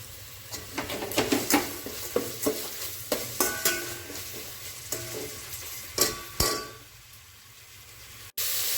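Chopped onions and curry leaves sizzle in a pan while being stirred, with a steady frying hiss broken by a quick series of close scraping clinks of a spoon, which thin out toward the end, with no talking.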